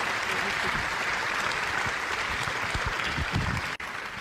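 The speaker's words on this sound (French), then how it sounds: "on peut les applaudir s'il vous plaît" Audience applause for award winners at a regional talent ceremony, a dense, even wash of clapping from a seated crowd that carries on steadily, with a brief dip near the end.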